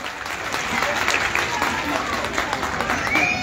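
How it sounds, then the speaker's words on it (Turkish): A crowd at an outdoor community gathering in Yenikapı, Istanbul applauds warmly and steadily for a few seconds, with voices mixed into the clapping. "gönülden alkışı gerçekten hak ediyor"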